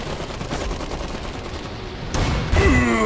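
Sustained volleys of gunfire and machine-gun bursts in the Iron Harvest 1920+ strategy video game, a dense continuous battle din that grows louder and more intense toward the end.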